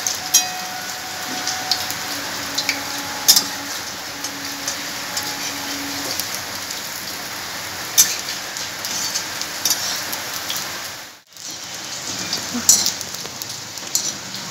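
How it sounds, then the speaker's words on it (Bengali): Urad dal batter fritters sizzle in hot oil, a steady crackling hiss that runs evenly throughout with faint pops and no talk. "একইভাবে আরও একটুকু কলাই বাটা আছে, ভেজে নিচ্ছি।"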